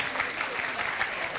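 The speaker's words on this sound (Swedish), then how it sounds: "Och på nytt applåder till vårt härliga husband." A studio audience applauds the house band on the Swedish TV bingo show BingoLotto, a dense, steady wash of clapping that holds at an even level throughout.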